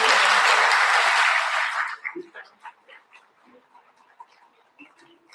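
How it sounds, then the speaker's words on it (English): University boot camp audience claps for student volunteers at a valedictory event, a dense round of applause for about two seconds that quickly dies away into scattered quiet sounds. "a big round of applause for the student volunteers who have really helped me"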